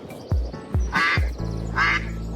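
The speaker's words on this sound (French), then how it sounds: "Et le canard peut nager tranquillement jusqu'à sa livraison." A cartoon duck quacks several times in a row, loud and close, with short nasal bursts spaced roughly half a second apart and a lingering musical tone underneath.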